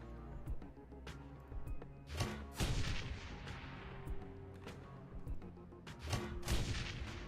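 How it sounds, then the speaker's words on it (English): Grenade blasts in the Shadowrun: Hong Kong game land as several heavy booms, with strong hits near the middle and again toward the end over low, rumbling combat noise. "Hey, 2 direct grenade hits from Isabel."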